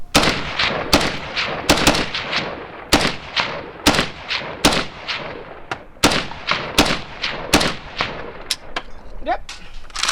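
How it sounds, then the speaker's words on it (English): Loud, sharp gunshots from an AK-pattern rifle fired after being soaked in water, cracking out in a long string of closely spaced single shots with ringing decay between them, close and outdoors. "Let's see if this Russian-made rifle will shoot."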